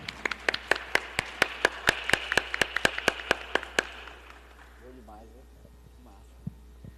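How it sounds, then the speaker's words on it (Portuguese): Applause at a business and charity panel event, a quick run of sharp claps that stop after about four seconds and give way to a speaker starting to talk. "Salva de palmas."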